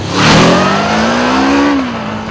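A Honda Crossrunner 800 motorcycle's 782 cc V4 VTEC engine revs up close, its pitch climbing smoothly, holding high for a moment, then dropping back as the throttle eases.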